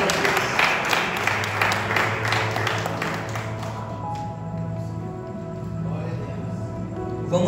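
A church congregation applauds together during a worship service, a dense wash of clapping that fades out after about four seconds, leaving a soft sustained organ or keyboard tone underneath.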